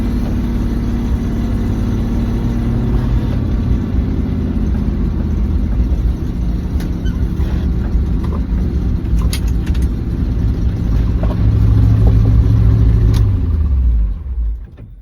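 A 1983 Chevy with no brakes or power steering runs and drives, its engine giving a loud, steady rumble that swells as it accelerates near the end and then drops off abruptly, with no talking.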